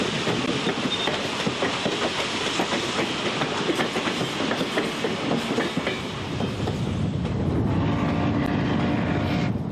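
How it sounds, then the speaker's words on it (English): A steam train on the Western Maryland Scenic Railroad exits Brush Tunnel, loud and close, with rhythmic clattering of wheels and rumbling cars, then a brief dip before a heavier, hissing roar takes over near the end. "As the train exits the tunnel, it is surrounded by steam, as if it was a ghost train from the past"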